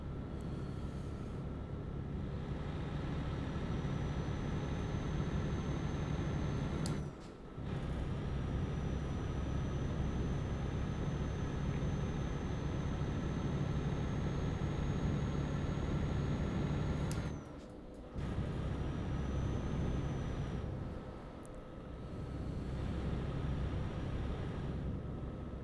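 Heavy truck engine droning at higher revs in Euro Truck Simulator, a loud continuous rumble broken by two brief dips, likely gear shifts, and a softer lull near the end.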